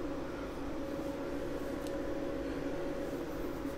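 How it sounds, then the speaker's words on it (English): Electrical inverters in a mechanical room give off a faint, steady hum with a constant droning tone over soft background hiss, unbroken throughout. "so you can hear the inverters humming and buzzing away in the background."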